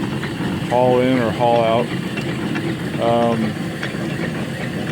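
A steam donkey logging yarder engine with boiler runs in a steady low rumbling chug, close and continuous, while someone talks over it in short phrases.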